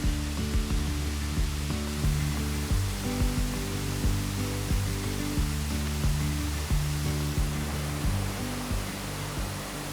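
Deckertown Falls, a three-tiered waterfall near Montour Falls, gives off a steady, dense rushing roar. Rhythmic tonal music plays over it throughout.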